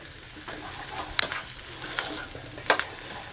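Jackfruit seed poriyal being stirred in a pan, a soft continuous sizzle with a few sharp scraping clicks of the spoon against the metal at intervals, close and moderately quiet.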